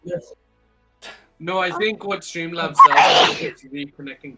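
A person lets out a single sharp, loud sneeze in the middle of ongoing conversation during a live stream, with talking before and after it.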